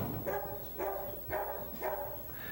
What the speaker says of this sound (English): They bark so much I don't even think about it barking.